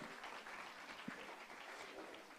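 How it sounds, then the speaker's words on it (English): Applause rises at an award ceremony as guests are called forward to present awards, a steady, even wash of many hands clapping, heard quiet and somewhat distant with no voices over it. "Give them a huge round of applause."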